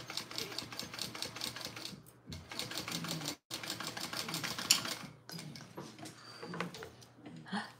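A sewing machine runs in bursts while stitching a 3/8 inch seam along the top of a fabric bag, with short pauses between runs and faint talk and household noise underneath.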